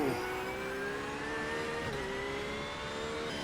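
A GT3 race car in iRacing accelerates hard out of a corner at Snetterton, its engine note rising steadily in pitch as the revs climb, loud and continuous throughout with no pauses or talk.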